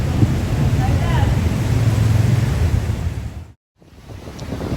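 Strong gusting wind along the Marikina River in the dark aftermath of Typhoon Carina, a steady roaring rush that buffets the microphone, with faint voices, cut by a brief dropout near the end.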